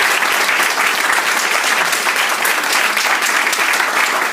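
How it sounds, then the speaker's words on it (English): A large audience applauds continuously and steadily, a dense, loud wash of clapping filling the whole stretch with no voices on top. "So, big round of applause."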